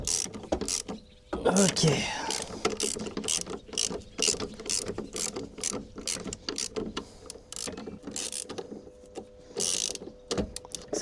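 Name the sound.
ratchet wrench loosening a bolt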